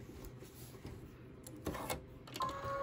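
An embroidery machine stitches red thread over an earlier white stitch-out, giving quiet, close mechanical whirring in short uneven bursts with no voices.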